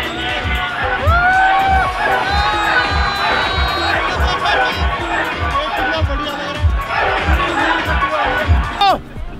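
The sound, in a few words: large crowd gathered around a modified Thar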